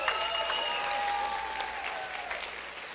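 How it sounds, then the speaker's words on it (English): A crowd at Goldie's Best Little Opryhouse in Kentucky applauds steadily for a few seconds. The clapping is moderately loud and dense and eases slightly at the end, with a faint tone sounding under it. "Let's give him a little round of applause."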